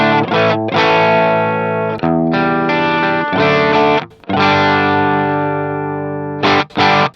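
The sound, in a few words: electric guitar through Boss SD-1, drive rolled all the way off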